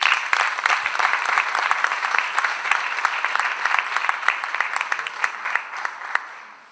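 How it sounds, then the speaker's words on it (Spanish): An audience applauds to welcome a geographer onto the stage at an evening talk in Los Vilos. Dense, steady clapping carries fairly loud from the start, with no voices over it, then thins out and fades at the end. "Recibamos con un fuerte aplauso a Marcelo Lagos"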